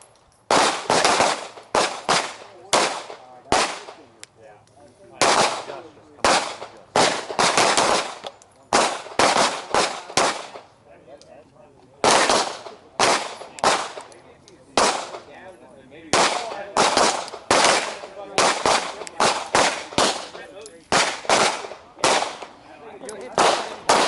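Pistol shots from a handgun with a red dot sight ring out at an outdoor shooting range, fired in quick loud strings of several rounds separated by short pauses, sharp and close.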